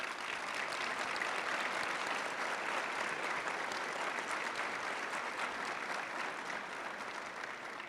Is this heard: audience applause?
yes